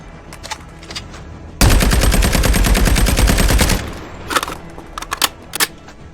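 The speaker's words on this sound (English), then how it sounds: "They have also changed the firing sound of the DRH." Rapid automatic fire from the DRH rifle in COD Mobile: a single loud sustained burst of about two seconds, followed by a few scattered quieter clicks and shots.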